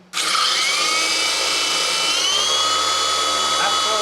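Lighthawk Aero RC helicopter motor spun up to full throttle, a sharp start into a steady, loud, high-pitched electric whine that holds almost unchanged throughout, close by.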